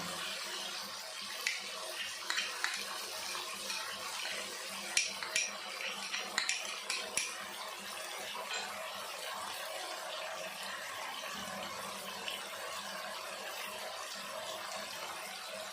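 Soft clinks of a bowl being rinsed at a running tap, then a little water poured in, quiet and close, with scattered tapping knocks mid-clip before a gentle steady wash of water.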